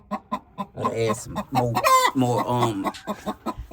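Backyard laying hens cluck close by in a busy, irregular chorus, with louder squawking calls rising in the middle and no talk.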